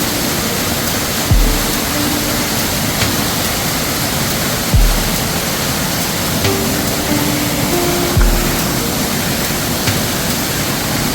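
Amboli waterfall roars as a loud, steady broadband rush of falling water that fills the whole clip, with a few faint low thumps and tones buried beneath it.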